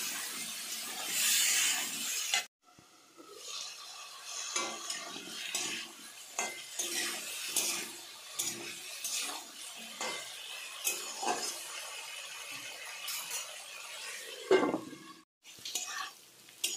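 Papaya, bottle gourd and other vegetables with a little turmeric fry in a pan for a thin foli fish curry while being stirred gently. Soft sizzling runs under irregular scrapes and light knocks, with a few louder bursts.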